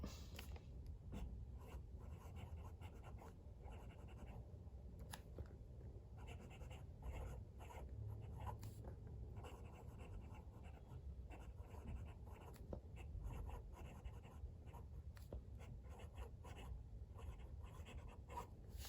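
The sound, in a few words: writing with Pelikan M805 fountain pen on onion skin paper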